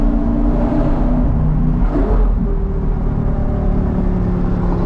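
A Lamborghini Gallardo fitted with a Top Speed Pro1 race pipe muffler-delete exhaust rumbles loudly and close, holding a deep, droning idle with a brief rise in revs partway through.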